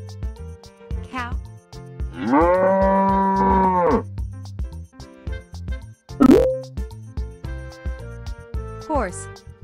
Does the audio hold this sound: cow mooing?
yes